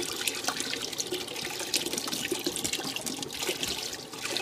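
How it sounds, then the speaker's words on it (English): Water runs and splashes steadily over sediment being poured and washed as in gold panning, a close, continuous gurgling wash with scattered small splashes and no voices. "Now look, that water's just going in there."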